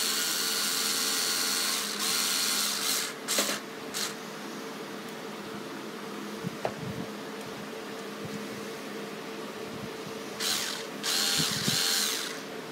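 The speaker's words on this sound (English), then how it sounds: "As you can hear by the strain of the little cordless screwdriver." A small cordless screwdriver strains as it tightens screws, its high whirring motor droning steadily up close, with brief louder bursts and dips at the start and end as the load changes.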